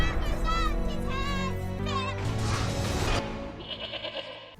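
Loud, wavering black goat bleats in Resident Evil Village, several in a row, followed by a rushing noise and a bright tone, with game-like sound effects throughout.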